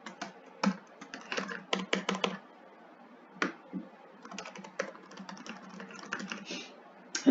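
Fingers type on a computer keyboard in a close, quiet burst of quick irregular key clicks with short pauses between runs.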